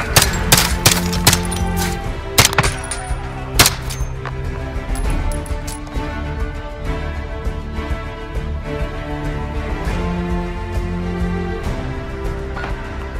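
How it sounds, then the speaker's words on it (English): Gunfire in Call of Duty Modern Warfare: loud bursts of automatic rifle fire and single sharp shots crack over a steady hum of game background sound, heaviest in the first few seconds, with no voices. "Gunfire."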